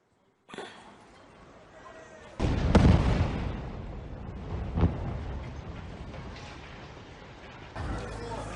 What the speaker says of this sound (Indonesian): Rekaman memperlihatkan momen ledakan akibat serangan di kamp pengungsi Al-Shati Gaza